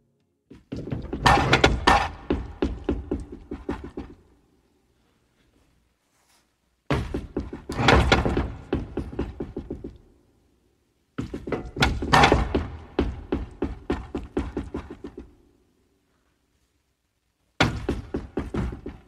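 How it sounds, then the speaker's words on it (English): Four processed closet door bursts, each a sharp thunk followed by a rattling, repeating tail that speeds up as it fades, separated by silence. "That's a door. That's the closet door."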